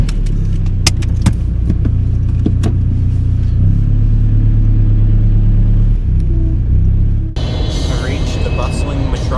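A car rumbles close up with a low, steady idle, a few sharp clicks and a shift in engine tone partway through, then road and motion noise as it pulls away; voices are faintly present.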